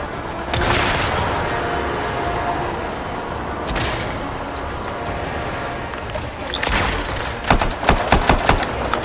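Gunfire in the shooter action RPG Anthem: scattered sharp shots and bursts over a steady background of game ambience, with a rapid volley of close reports near the end.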